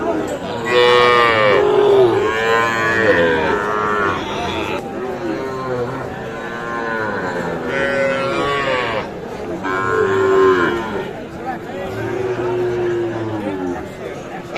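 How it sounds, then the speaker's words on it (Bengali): Several Sahiwal calves moo in drawn-out calls, one after another, loud and close, with a low murmur of people in the background at a cattle market. "এই পাশে দেখছি দুইটি গরু শাহিওয়াল বাছুর"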